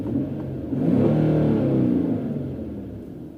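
A 2010 car with a V6 VVEL engine revs up, its mid-pitched rumble swelling and holding steady before easing off, close and alone with no voices.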